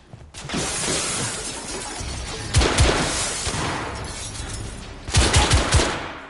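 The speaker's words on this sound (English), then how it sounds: "They're shooting at me!" Gunfire in the video game The Order: 1886, with loud bursts of shots and shattering impacts over a dense battle din, the heaviest volleys striking near the middle and end.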